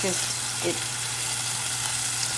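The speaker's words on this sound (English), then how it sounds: "And saute that up until it gets translucent." Onions saute in a pan on the stove, giving a loud, steady, close sizzle that runs the whole time with faint utensil movement.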